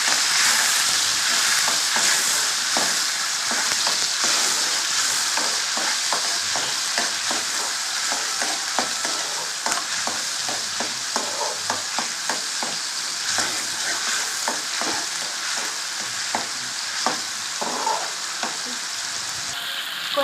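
Raw prawn curry mixture with onion paste frying in a pan, giving a continuous loud sizzle broken by frequent quick spatula scrapes and stirs throughout, close and with no voices.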